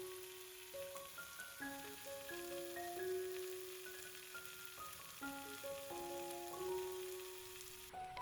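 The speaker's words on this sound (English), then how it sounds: "I usually add leaves in 2 to 3 rounds so that they are not overly crowded in the pan" Swiss chard leaves fry with garlic in a pan, giving a steady, even sizzle that runs throughout beneath prominent melodic background music.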